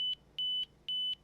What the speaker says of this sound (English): I can hear the earbuds ringing